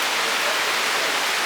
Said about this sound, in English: So the rain is absolutely torrential.